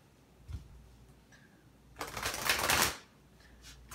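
A deck of tarot cards is shuffled, a short dense riffling burst in the middle after a few faint handling taps, close and fairly quiet.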